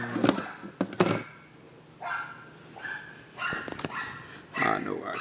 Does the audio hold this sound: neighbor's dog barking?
yes